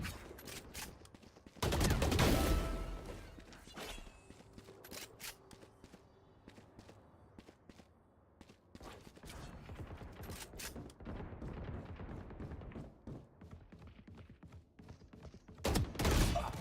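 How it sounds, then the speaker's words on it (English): Nonstop automatic gunfire in a shooter video game, quite faint and steady, with a couple of louder bursts near the start and end, and no voices heard. "Bro, like he's just shooting non-stop bullets"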